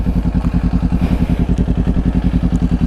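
A motorcycle engine runs steadily close by during a roadside traffic stop, a loud, rapid, even pulsing throb with faint clatter and no voices.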